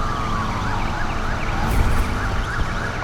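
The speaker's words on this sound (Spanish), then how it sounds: "El coche patrulla se ha unido a la persecución," Police car siren in the racing video game Need for Speed Unbound, a steady wailing tone rising and falling throughout over a continuous rumble of engine and road noise, loud and close.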